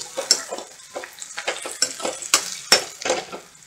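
Onions fry in a pan for a village-style pepper chicken masala, a crisp sizzle broken by repeated scraping stirs and light metallic taps of the spoon, up close with no voices.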